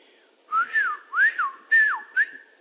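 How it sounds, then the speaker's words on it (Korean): A person whistles four short, rising-and-falling notes in a simple tune, close and clear against a quiet background. "저녁에 휘파람을 불지 말라고 그랬어"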